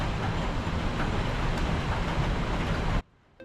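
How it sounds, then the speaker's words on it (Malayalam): A metro train in Malaysia rushes past close by, heard from a hotel balcony, with a loud, steady roar that cuts off abruptly near the end. "ഈ ബാൽക്കണിയുടെ പുറത്തുനിന്നായിട്ട് മെട്രോ പോണ കാഴ്ച എനിക്കെ കാണാം"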